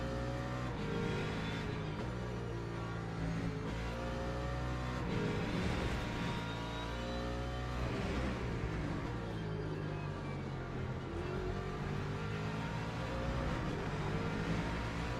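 Race cars in the Le Mans Ultimate racing game, engines rising and falling in pitch as they brake and accelerate, several cars audible together at moderate volume without talk.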